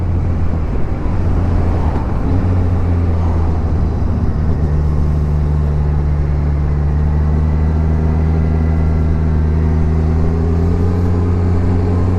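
A Kawasaki Z1000SX inline-four motorcycle accelerates hard, its engine note loud and close, rising steadily in pitch over a constant wind-blasted roar throughout.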